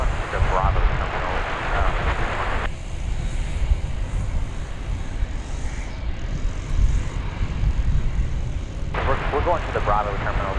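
A Boeing 747-8 jet at DFW airport gives a steady, fairly distant roar of engine noise, with someone talking over it at the start and again near the end.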